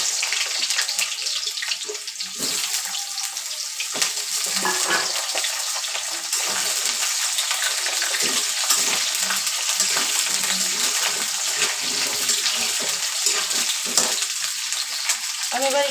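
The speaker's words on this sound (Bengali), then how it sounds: "আলুটা আমি হালকা ভেজে নেব, মাংসের আগে দেবো না।" Potato pieces frying lightly in oil for chicken kasha, a steady bubbling sizzle close by with intermittent scraping and stirring, running without a break and with no voices.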